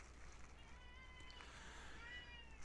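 A cat meowing in a faint, drawn-out tonal call, distant and low under steady background hiss, with no talk.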